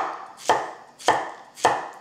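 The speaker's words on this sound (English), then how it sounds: "So, we start by simply slicing the courgette" A knife slicing through courgette on a chopping board, three crisp, evenly spaced cuts, each ending in a firm knock on the board, close and clear.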